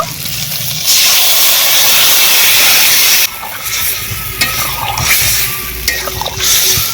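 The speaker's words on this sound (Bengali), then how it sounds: "আদা এবং জিরে বাটা এবারে ছোঁক দিয়ে দেব" Ginger and cumin paste hitting hot oil for a fish curry tempering gives a loud, bright hiss that bursts in, holds steady, then drops to a softer sizzle with scattered scrapes and clinks.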